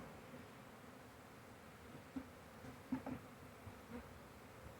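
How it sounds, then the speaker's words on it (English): A honey bee swarm being installed into a hive gives a faint, steady buzzing hum, with a few soft knocks and clicks scattered through it and no talking. "Bunch of bees in that swarm."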